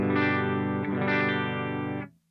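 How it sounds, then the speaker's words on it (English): A single electric guitar strum on the bridge pickup through a Line 6 Helix clean tone, a bright chord ringing evenly for about two seconds with a slight shimmer before being muted. "I am going to test it with a quick little strum"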